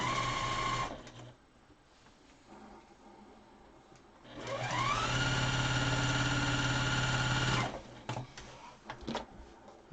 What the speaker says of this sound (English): Fold it over and sew it.